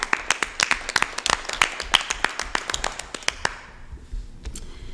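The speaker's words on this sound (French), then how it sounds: "même une bonne main d'applaudissements pour M." Applause at a municipal council meeting honouring Jacques Simard and family caregivers, with crisp individual claps close by that thin out and fade after about three seconds.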